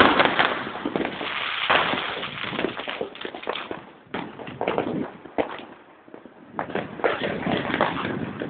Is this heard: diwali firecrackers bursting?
yes